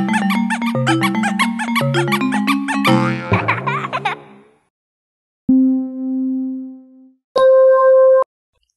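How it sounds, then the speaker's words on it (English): A squeaky, monkey-like laughter easter egg serving as the alternative GameCube console startup sound: a busy cascade of bright chirpy squeaks, then a lone sustained tone and a short loud bright squeal, with no talk. "That squeaky monkey laughter sound is actually an alternative startup sound for the GameCube."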